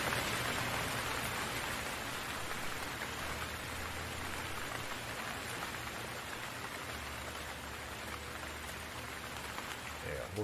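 Continuous rain ambience plays on an astrophotography live stream, a steady broadband patter of rain on a surface holding at a fairly even level throughout, with no speech over it.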